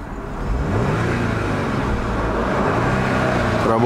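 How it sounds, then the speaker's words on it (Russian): A 2010 Audi A6 with 165,000 on the clock idles steadily, a continuous low engine hum heard close and alone, with no talking over it. "Работа мотора идеальная"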